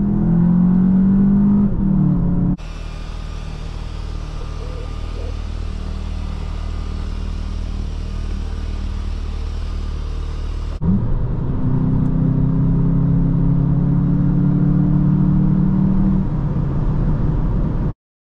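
A 2023 Volkswagen Jetta GLI on the Autobahn, its engine droning loud and steady for the whole stretch with heavy road and wind rumble, rising revs at the start and near the end as it accelerates through the gears.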